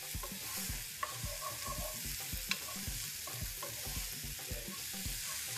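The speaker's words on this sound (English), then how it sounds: "I'm just going to fry everything together." Mustard oil pickle with green chilies frying in a pan, a steady close sizzle over a rhythmic low stirring scrape, with occasional small pops and no speech.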